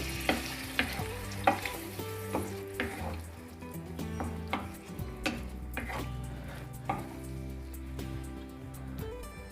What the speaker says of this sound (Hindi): हल्के हल्के हाथ से पनीर और कैप्सिकम के साथ इसको हम मिक्स करेंगे